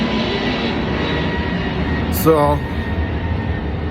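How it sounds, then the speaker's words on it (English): A fixed-wing airplane passes overhead, a steady broad engine roar running the whole time beneath a man's speech and peaking briefly toward the middle. "let me wait for this plane to go by here"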